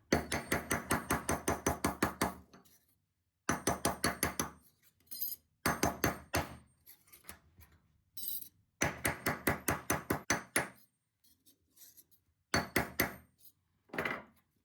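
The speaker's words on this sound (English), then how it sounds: "I'm just going to hammer all around those edges to get that a little flatter." Rapid bursts of hammer blows on the edges of a small brass tree tag resting on a steel plate, bright metallic taps in quick runs separated by short pauses, close and loud with no talking.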